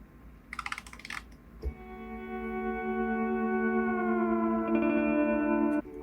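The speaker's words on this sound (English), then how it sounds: "Now we can adjust the playback speed simply by moving the playhead through the sound more or less quickly." A recorded sound scrubbed by moving the playhead in Groc pitch-shifting software changes its playback speed. A brief noisy flutter is followed by a sustained tonal note whose pitch drifts slightly, then cuts off abruptly.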